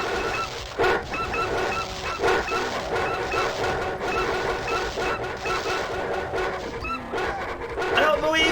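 Dogs in the video game Doom bark, yip and whimper in a busy fight with barons, revenants and an imp, the yelps repeated quickly over dense game noise and music.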